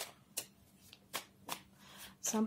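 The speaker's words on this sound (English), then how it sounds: "I shuffled them, guys. You can hear me. I'm shuffling." Tarot cards being shuffled by hand produce a series of sharp, close riffling bursts, about five spaced swipes over soft background, ending with a brief voiced sound.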